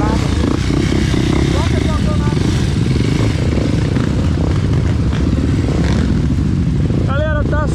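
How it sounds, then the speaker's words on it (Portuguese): Motorcycle engines rumble and rev loudly throughout on an off-road trail ride, with clattering and people talking over the steady engine noise. "Muita, muita moto. Gostosinho de acelerar."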